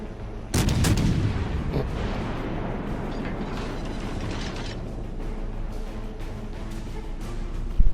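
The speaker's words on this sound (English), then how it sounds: "open fire on him." Heavy naval guns fire in World of Warships from the cruiser Helena: a loud, booming broadside bursts in near the start and rumbles on under continuous battle noise, with a sharp report at the very end.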